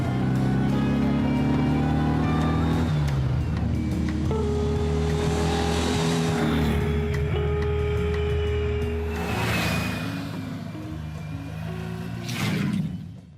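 A Porsche 356 with a 1.6-liter, 90-horsepower engine rumbles steadily as it drives, its tone shifting through gear changes with a rising rev near the end; no one speaks.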